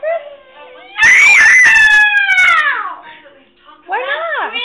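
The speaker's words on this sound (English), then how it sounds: "Screaming." A young girl screams loudly in a long, high, sustained shriek that breaks off and then rises again, close to the listener and mixed with shouted childish words.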